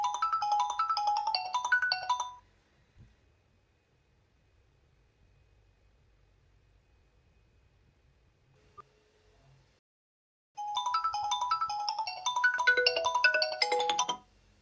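A phone's incoming-call ringtone plays through a Mi Band table speaker as bright melodic tone bursts: a short burst, about eight seconds of near silence, then a longer, louder burst.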